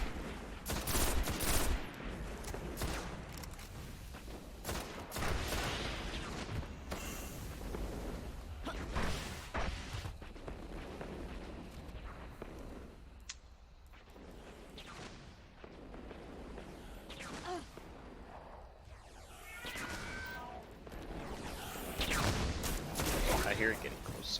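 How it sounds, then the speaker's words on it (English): Gunfire in the video game Destiny during The Dark Below, dense bursts of rapid shots and booms repeating loudly throughout, with a player speaking at times over the shooting. "Who's shooting me?"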